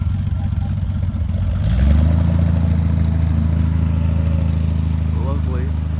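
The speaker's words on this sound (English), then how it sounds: "Noises from the Triumph." A Triumph car at an outdoor car meet starts up and revs, a clattering low engine note rising after a quiet stretch and then holding a steady, fairly loud drone, with brief chirping sounds near the end.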